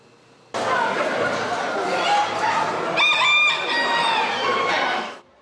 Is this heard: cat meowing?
no